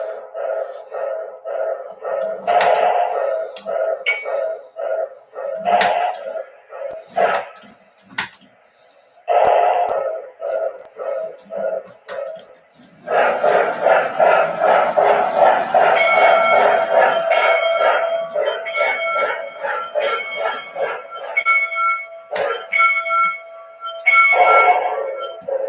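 Electronic sound system of an MTH Proto Sound 1 K4 steam model train, O27 scale, sounding loud, repeated bell-like tones and chuffing bursts that continue steadily with brief gaps and no talk.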